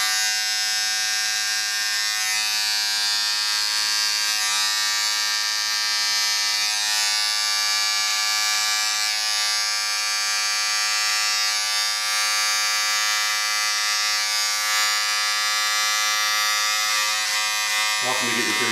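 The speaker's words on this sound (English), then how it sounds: "I'm gonna go through with my detachable clipper, keep most of the shape and size" A detachable hair clipper buzzes steadily and loudly throughout while trimming a long beard close up, a continuous electric hum with a person talking over it.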